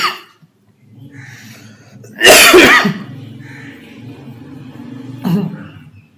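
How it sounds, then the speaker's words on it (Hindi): A lecturer coughs during a recorded Hindi lecture on approaches to political science, with a loud, close cough burst, a softer one a few seconds later, and a room murmur between. "जितनी दफ़ा मैंने रिकॉर्डिंग लेक्चर में खांस लिया ना"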